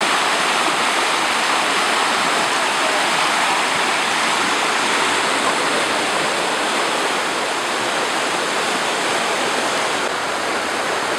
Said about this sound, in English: Look at that water, it's coming right from down here